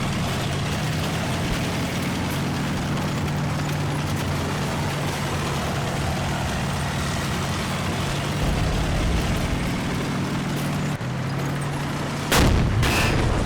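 Tank gunfire and artillery in Combat Mission: Battle for Normandy: a low rumbling engine drone runs throughout, with scattered distant gunfire and a sharp loud blast near the end.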